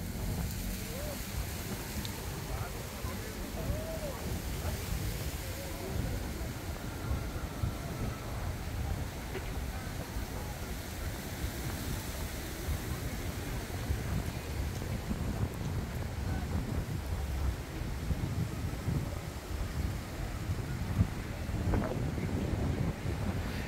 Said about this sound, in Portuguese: Um vento frio.